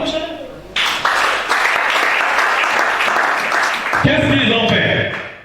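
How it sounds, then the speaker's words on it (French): A church audience breaks into loud, sustained applause and cheering, the clapping swelling after a brief start and continuing with voices mixed in before tapering off at the end. "Acclame chacun."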